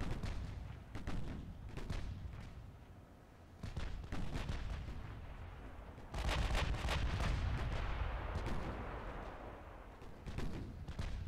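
Warship guns fire in the naval battle game Ultimate Admiral Dreadnoughts, heavy booming salvos repeating several times with deep rumbling echoes, one especially large blast near the midpoint, and no talking.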